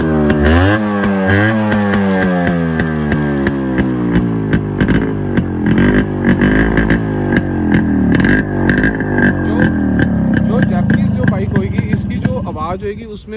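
A Yamaha RX100 two-stroke motorcycle, Japanese version, revs loudly close up, its engine and exhaust rising and falling through repeated throttle blips, with someone talking over it.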